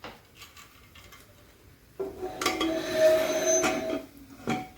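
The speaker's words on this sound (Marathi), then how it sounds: "आणि कुकरच्या झाकणाची मी शिट्टी काढून घेते." The whistle is worked off a pressure cooker lid: a soft tap, then about two seconds of close metallic rattling and scraping, ending in a sharp clink.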